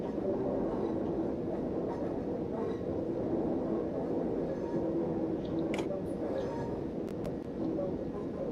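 A Class 378 electric train in Train Sim 2019 rolls slowly toward Clapham Junction, a steady low rumble of wheels and motors with a few faint clicks and squeals, the sound continuous and fairly quiet.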